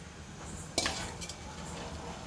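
A metal spoon clinks and scrapes in a pot of sour yogurt buttermilk poured over roasted garlic, for a Gujarati garlicky cornmeal dish; one sharp clatter near the start, then soft stirring noise at low level.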